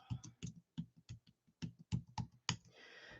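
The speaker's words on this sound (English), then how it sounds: "It came with a wireless keyboard, but I can never see when my caps are on." Keys clack on a wireless computer keyboard in short irregular bursts of close, crisp typing with brief pauses, followed by faint rustling at the end.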